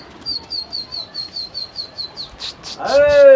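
Pigeons at a loft where a batch of new birds is being released: a regular run of short repeated bird calls, then a burst of wingbeats and louder calls near the end, with someone speaking briefly.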